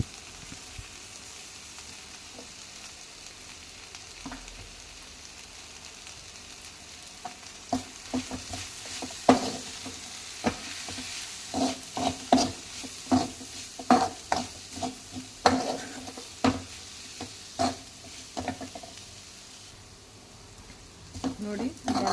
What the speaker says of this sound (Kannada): ಈಗ ಇದಕ್ಕೆ ತೆಂಗಿನಕಾಯಿ ತುರಿ ಕೊತ್ತಂಬರಿ ಸೊಪ್ಪು ಹಾಕಿ ಫ್ರೈ ಮಾಡಿ